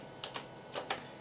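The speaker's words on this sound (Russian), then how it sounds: "наберем на клавиатуре еще раз команду WinNT с параметрами X и B" A few sharp, separate keystrokes on a computer keyboard as the WinNT command with X and B switches is typed while installing a Windows NT 3.5 beta. The clicks are soft and close, with pauses between them and no voices.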